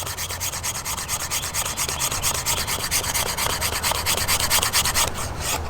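Green, damp bamboo is scraped with a blade to make fine tinder. The rasping strokes are steady, quick and evenly spaced, close and loud, carrying on without a break and with no talk.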